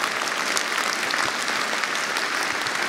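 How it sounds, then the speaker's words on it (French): Audience at a political rally in Nantes applauding continuously, a dense, steady wash of clapping from many hands throughout. "Je note ceux qui applaudissent"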